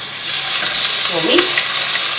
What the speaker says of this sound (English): Let's put in about 1 tablespoon of olive oil and just start chucking in